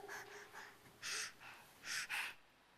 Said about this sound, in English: Here's a rather more cheerful baby